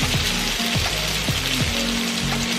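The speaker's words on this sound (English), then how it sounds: "you can see it's frying up really nicely now" Rice frying in a pan during sushi bowl preparation, a steady broadband sizzle with faint clinks and scrapes of stirring, close and continuous.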